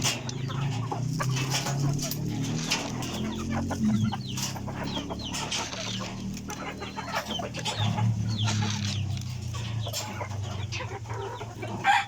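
Peruvian chickens cluck steadily in a backyard flock during morning feeding, a dense overlapping chorus of close hen calls with scattered louder squawks and no speech.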